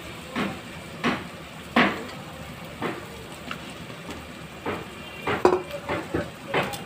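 Spices, salt and chopped tomato stir-fried in a pan for a Bengali prawn and pointed gourd dish, with repeated scraping strokes of the spatula over a steady close sizzle.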